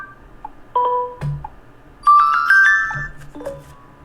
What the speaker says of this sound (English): That's my notification sound right there